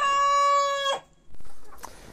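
A backyard chicken coop with a rooster giving one long, loud crow that cuts off abruptly. A short pause follows, then a few soft hen clucks nearby.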